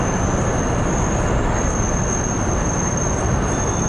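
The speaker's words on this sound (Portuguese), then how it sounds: "Esse aí é o trem da hora." A New Jersey commuter train bound for New York rumbles past as a loud, steady roar of wheels on rail, with a faint high whine running above it throughout.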